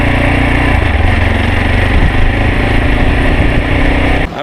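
Zongshen motorcycle engine roaring steadily while riding at around 120 km/h on a road in China, a loud continuous drone with rushing wind, cutting off abruptly at the end.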